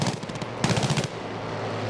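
A BF 109 G6 fighter's machine guns fire in Battlefield V, with two short rapid bursts of rattling shots over a steady engine drone.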